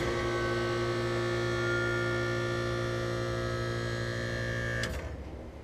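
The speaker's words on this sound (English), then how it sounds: "And this is just gonna be the compressor." An outdoor AC condenser compressor runs alone with its fan motor disconnected. It gives a steady, loud electrical hum for nearly five seconds, then shuts off abruptly with a click and a fading tail.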